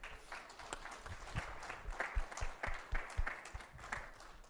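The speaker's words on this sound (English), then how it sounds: "Give them a round of applause." Modest round of applause from a seminar audience at a research talk, scattered distinct claps fairly close, continuing steadily.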